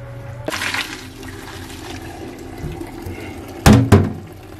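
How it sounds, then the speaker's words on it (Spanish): About a litre of pasta cooking water is scooped out for tallarín saltado, with brief close splashing and pouring at the start and a louder watery burst near the end over steady kitchen hum. "Vamos a sacar más o menos 1 litro de agüita del fideos para echarle a nuestro tallarín saltado"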